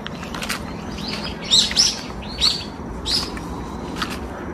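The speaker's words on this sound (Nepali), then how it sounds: "चराचुरुङ्गीहरू चाहिँ सुन्न सक्नुहुन्छ चराचुरुङ्गी कराइरहेको छ" Birds along a hillside path give several bright chirps in short bursts over a steady outdoor background hum, moderately near, with no one speaking.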